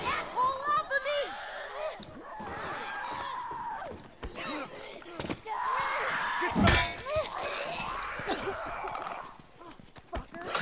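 Melee weapon strikes in The Last of Us, several hard thuds and cracking impacts scattered among shouting and grunting voices, with one loud heavy blow near the middle of the fight.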